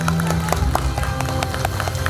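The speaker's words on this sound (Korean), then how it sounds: "박수 한번 주세요" Workshop attendees applaud during a group photo session, with a burst of hand claps over a low room rumble and a sustained tone.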